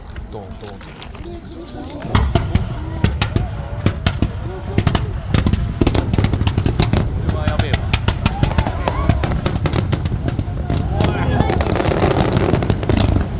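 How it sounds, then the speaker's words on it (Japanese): Fireworks burst at a summer fireworks festival in a harbour town, with a dense run of sharp bangs and crackles that begins about two seconds in and continues, loud and close, under excited voices. "これ花火の音だ。"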